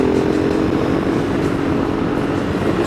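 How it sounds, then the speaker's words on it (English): A KTM 390 Adventure motorcycle engine chugs steadily in 4th gear on a twisty road, a constant loud droning hum with wind rush throughout. "Just got her in 4th gear and letting her chug along."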